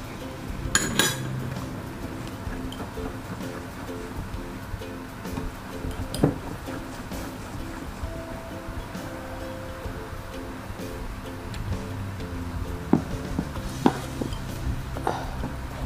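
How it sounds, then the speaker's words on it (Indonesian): Metal whisk beating coconut chip batter in a bowl, quick irregular clinks and scrapes against the sides, close up, with no talking. "supaya lebih mudah saya ganti dengan menggunakan whisk ya"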